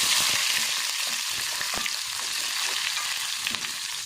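Onion and dried red chilies sizzle and crackle steadily in hot oil, a close, constant frying hiss with occasional stirring clicks and no talking.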